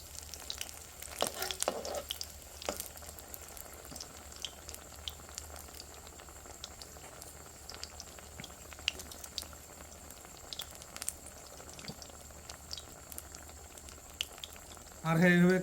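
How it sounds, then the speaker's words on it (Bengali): Potato, pointed gourd and eggplant chops deep-frying in hot oil over a low gas flame, a steady dense sizzle and bubbling running throughout at close range, with a brief louder burst at the very end. "ভাজছি চপ, মনে হচ্ছে ভাজছি আমি লুচি।"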